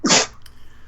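A single sharp, loud sneeze bursts out close by, followed by quiet breathing and faint room tone.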